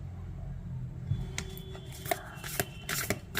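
Tarot cards shuffled and drawn by hand, producing quiet, close rustling and a scatter of soft flicks and slaps that grow busier toward the end.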